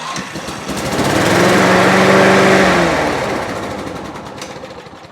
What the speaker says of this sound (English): why don't we go for a cold start, folks? Just see how she's going to start.